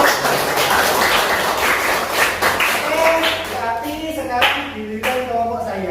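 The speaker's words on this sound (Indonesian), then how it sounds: "Oke, tepuk tangan untuk kita." Classroom students clapping, a loud burst of many hands that thins into scattered claps, with a teacher speaking over the tail end.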